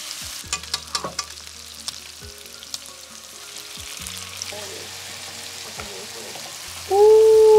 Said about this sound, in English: We're going to let this pork cook a little bit, and then we are going to add in the kimchi.